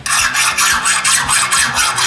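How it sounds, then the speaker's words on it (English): A worn chainsaw file rasps back and forth along a hardened steel dagger tang, loud and close, in steady rhythmic strokes with no voices. "The file's digging in really good there, and then as I go this way, it gets harder and harder and harder."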